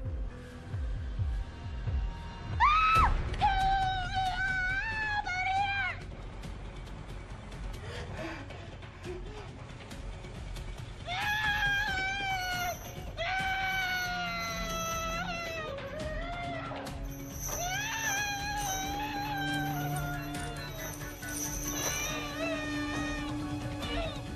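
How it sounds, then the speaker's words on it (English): A woman in a film scene lets out several long wavering screams with a pause in between, loud and close against a soft background. "I want you to scream."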